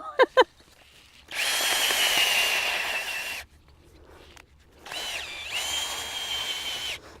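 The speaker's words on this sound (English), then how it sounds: "what happens when your drill is on reverse and you're trying to do it" A cordless power drill whirs in reverse while planting annuals and hostas in a garden, two sustained high-pitched spinning bursts of a few seconds each with a short pause between, preceded by a couple of sharp clicks.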